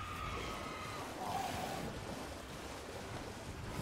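Rushing water from a waterfall in the video game Elden Ring, Shadow of the Erdtree DLC, a steady broadband wash of noise that holds at an even level throughout without a break, with no talk.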